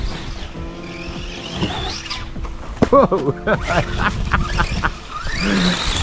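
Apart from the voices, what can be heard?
RC race car driving on raceway track, tires squealing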